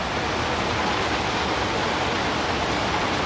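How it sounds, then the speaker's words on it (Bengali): Heavy monsoon rain pours down in a steady, loud, unbroken hiss with no other sounds standing out. "এই বৃষ্টির মধ্যে"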